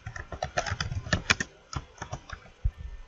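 A title being typed on a computer keyboard: a quick, uneven run of close, crisp key clicks with a short pause partway through, then a few more taps.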